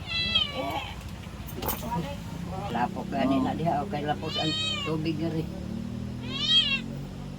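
A cat at an elderly woman's home at the foot of a mountain in the Philippines meows repeatedly, several drawn-out rising cries close by, interleaved with people talking.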